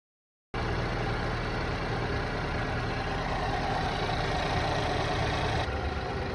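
A car engine idles steadily after a moment of silence, a constant low mechanical rumble with a slight rattle that holds at an even level.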